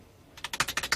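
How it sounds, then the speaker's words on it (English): Quick bursts of keystrokes on a keyboard start after a brief quiet pause, about eight sharp clicks in a fast uneven rhythm, close and fairly soft with no one speaking. "Because the way he types."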